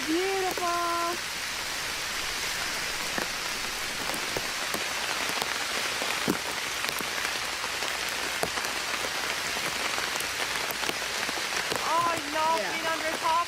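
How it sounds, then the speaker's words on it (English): Steady rain drums on a tarp in a forest, a dense, even patter that runs the whole time, with brief voices at the start and end. "The sound of rain on the tarp and the views of the forest made it feel perfect."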